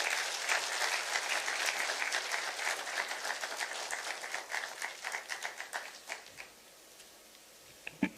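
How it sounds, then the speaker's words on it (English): Audience applause at the launch of a Pan-African greentech hub in Konza Technopolis, Machakos: dense steady clapping from a crowd that thins into scattered claps and fades out after about six seconds. "Another round of applause for Madam Ahuna."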